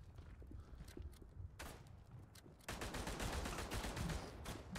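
Gunfire in the WW1 shooter game Verdun, a dense run of rapid cracking shots that grows louder and steadier partway through, alone without talk.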